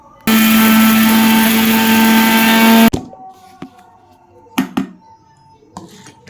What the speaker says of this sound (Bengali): এবার আমি মিক্সার গ্রাইন্ডারে ভালোভাবে গুঁড়ো করে নেব মশলাগুলোকে